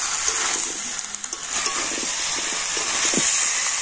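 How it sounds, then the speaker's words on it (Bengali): Pumpkin, potato and Malabar spinach stems sautéing with spices in a hot pan, a steady close sizzle with occasional stirring clatters and no talk. "তো সমস্ত কিছু আবার মশলার সাথে ভালো করে আমি কষে নিচ্ছি।"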